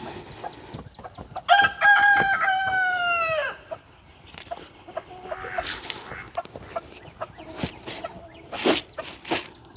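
Rooster crowing once loudly up close, then hens clucking and chattering in a backyard coop with ducks nearby, a few scattered sharp calls following.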